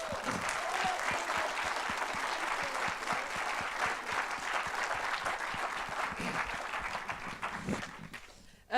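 A live audience at a pitch event claps for the presentation team in a steady, dense round of applause that holds throughout, then breaks off near the end.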